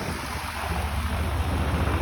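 Outboard motor on a riverboat running through river rapids, a steady low drone mixed with rushing water and wind buffeting the microphone, continuous and fairly loud with no talk.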